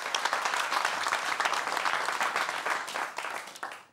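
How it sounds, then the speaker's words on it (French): A studio audience applauds in a dense, steady burst of clapping that fades out over about four seconds. "On peut l'applaudir."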